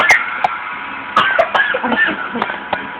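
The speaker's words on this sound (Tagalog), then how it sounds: "Ayan, ubo ka na." A few short, sharp coughs scattered over a few seconds, close by, with some throat clearing and faint background noise.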